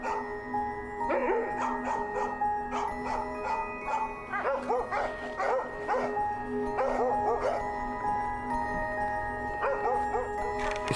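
Laika hunting dog, a three-year-old male, barking in repeated bursts over a steady background hum, fairly close, with brief gaps between volleys and no clear talk.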